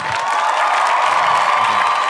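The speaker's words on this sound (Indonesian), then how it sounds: "tepuk tangan" A large studio audience applauds and cheers for dancers on an Indonesian dance competition show. The wash of clapping and crowd noise is loud and steady and lasts the whole stretch, with no clear speech.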